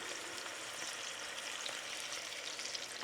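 Beaten egg hits a hot pan for a Japanese rolled omelette, giving a steady, close sizzle and crackle that holds evenly throughout with no talking.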